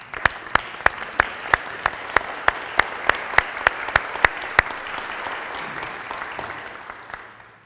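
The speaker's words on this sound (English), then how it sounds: "I think this deserves an applause." A Lutheran church congregation applauds during a Sunday morning service, with a broad, sustained wash of clapping and one sharp, regular clap cutting through close by before the sound fades out.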